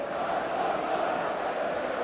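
A broad, steady roar from a packed football stadium crowd during a 2006/07 Premier League match between Manchester United and Portsmouth, continuous and distant, with a commentator's voice over it.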